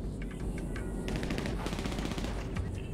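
Rapid bursts of automatic gunfire in GTA 5 near a building by a pink house, crackling and repeating densely over about three seconds with a steady background din.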